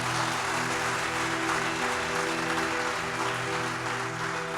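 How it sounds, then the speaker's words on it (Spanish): Steady applause from a church congregation, sustained and fairly even throughout, with a low musical hum running underneath. "Un buen aplauso para la persona que está en el computador."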